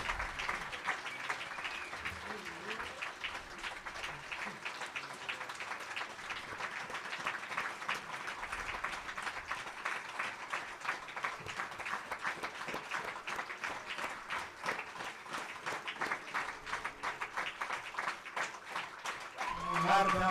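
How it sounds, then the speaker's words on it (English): Lecture audience applauding at a closing lecture, dense sustained clapping from a large crowd running steadily throughout, swelling slightly louder at the very end. "give them a huge round of applause"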